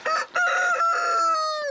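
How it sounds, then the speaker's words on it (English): A rooster crows loudly and close by among free-roaming farm chickens, a single long, strained call that holds steady and then drops off sharply at the end. "There's chickens,"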